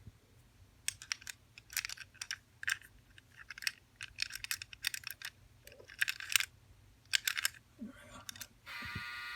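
A universal skeleton key works an antique early 20th-century American single lever lock, giving rapid clusters of small metallic clicks and rattles up close, ending in a short louder scrape as the bolt moves.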